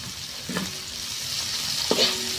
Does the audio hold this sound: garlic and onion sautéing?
yes